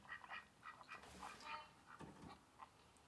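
Ducks quacking in a guessing game of sound effects, a series of short nasal quacks in quick irregular bursts, moderately close and fairly quiet, with no talk over them.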